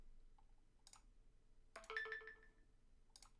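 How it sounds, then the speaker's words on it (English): Mobile phone ringtone going off indoors, a short burst of bright electronic tones in the middle after faint clicks, fairly quiet with no talk over it. "Sorry about my phone. I need to learn to mute that thing."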